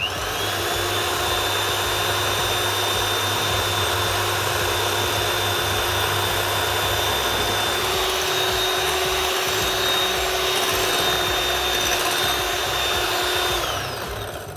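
An electric mixer beats egg whites while sugar is trickled in, giving a loud, steady, high-pitched whirring drone that runs without a break for about fourteen seconds before easing off at the end, with no talking over it.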